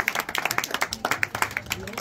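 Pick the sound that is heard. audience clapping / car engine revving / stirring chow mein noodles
audience clapping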